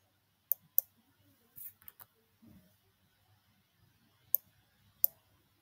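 Computer mouse clicking in a quiet room, sharp isolated clicks, a close pair early on, a few softer taps in the middle and two more crisp clicks near the end, with faint handling noise between.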